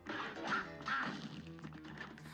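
Cartoonish duck quacks from the video game Cuphead, several short nasal squawks in quick succession, clear and close with slight clattery hits mixed in.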